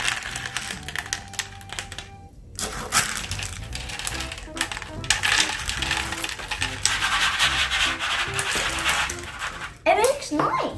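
A homemade tambourine rattles and jingles in loose, irregular shakes close to the listener, with scraping and clattering bursts and brief pauses along the way.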